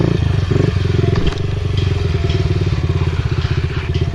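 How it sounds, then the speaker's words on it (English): A motorcycle engine revving hard and close as the rider throttles up for a wheelie, with a rapid pulsing exhaust beat that dips briefly and then holds steady. "a little bit of throttle, sitting back a little bit, and let the bike come up."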